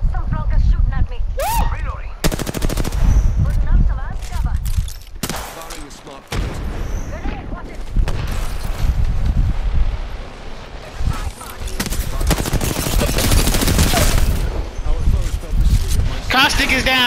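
Loud, sustained gunfire from an Apex Legends firefight, with rapid bursts and rattling automatic volleys nearly continuous throughout, punctuated by brief gaps and heavier booming shots, with a player talking over the action at times.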